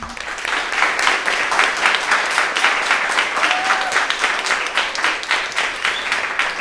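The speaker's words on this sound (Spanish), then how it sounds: "Yo creo que os merecéis un fuerte aplauso." An audience at a school event applauds podcast contest winners during a radio broadcast, dense clapping holding steady and fairly loud throughout, with a faint voice briefly audible in the mix.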